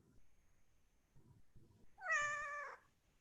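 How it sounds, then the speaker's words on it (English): A pet cat gives a single clear, drawn-out meow lasting under a second, close and loud against near silence, after a few soft low thumps. "I hear a kitty cat."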